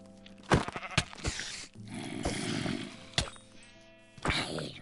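Sheep bleating in Minecraft on PS4, several short nasal bleats repeating close by with a few sharp thuds between them.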